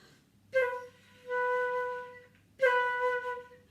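A single instrument plays an acciaccatura, a note preceded by a quick crushed grace note, then a sustained tone, then the ornamented note again; clear, close and unaccompanied.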